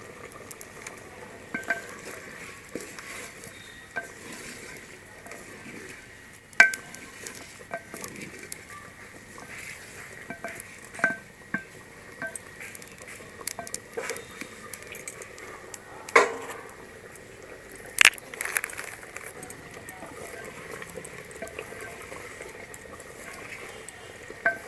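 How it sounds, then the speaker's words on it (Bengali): Biryani masala being sautéed in a pot for a village-style handi biryani gives a soft, steady patter of bubbling and stirring, with scattered clinks of a spoon against the pot, faint and without voices. "তো বিরিয়ানির মশলা দিয়েও কষিয়ে নিলাম"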